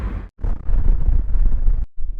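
Strong gusts buffet the microphone at Pangong Lake, a loud low rumble dropping out briefly twice, with no voices.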